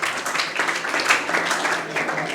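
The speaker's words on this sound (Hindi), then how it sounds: "इसके लिए भी तालियां हो जाए एक बार।" Audience at an academy event clapping together in a steady burst of applause that sustains throughout, fairly close and moderately loud.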